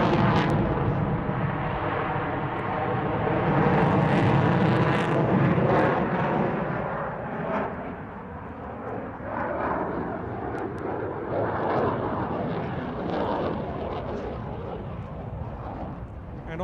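Hornet fighter jet flying display manoeuvres at the RAF Waddington Airshow 2014, a loud continuous roar of engines that swells and fades as the jet passes, with a commentator talking over it.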